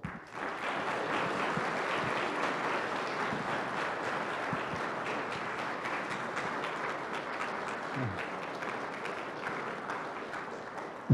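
A lecture audience at a church applauds loudly as Professor Kang Young-ahn comes to the front, sustained dense clapping for about eleven seconds, with no talk over it.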